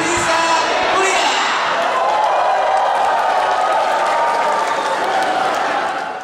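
Sustained applause from a large crowd at an Indonesian university graduation ceremony, steady dense clapping throughout with voices mixed in.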